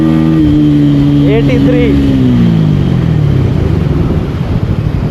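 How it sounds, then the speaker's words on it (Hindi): Bajaj Pulsar N160 motorcycle exhaust accelerating in third gear on a ride, a loud engine note rising in pitch and then dropping as the rider shifts, with a man briefly calling out a speed number. "एग्जॉस्ट का साउंड का भी मज़ा लीजिए। थर्ड गियर पे देखता हूँ कितनी जाती है"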